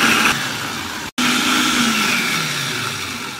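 An electric chopper blender pulses as it chops pandan leaves, its motor whirring loudly, cutting out for a brief moment and then starting again while the pitch drifts.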